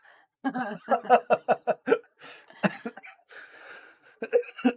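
A few sharp coughs close to the mic, one after another, with a little throat noise mixed in and short pauses between them.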